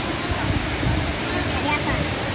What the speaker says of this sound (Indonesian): Kenceng banget airnya.